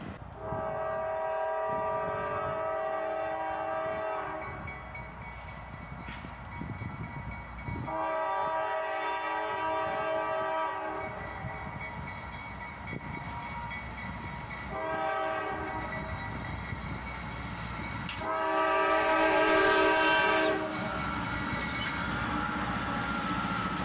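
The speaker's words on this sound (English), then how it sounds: "A northbound manifest train again" A CSX northbound manifest freight train rolls past with a steady rumble while its horn sounds in four long, loud blasts spread across the passage.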